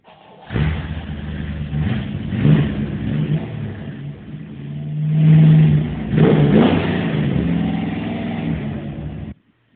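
A '56 big-block V8 engine revs loudly and nearby, throttle rising and falling in several surges over a steady rumbling idle before cutting off abruptly.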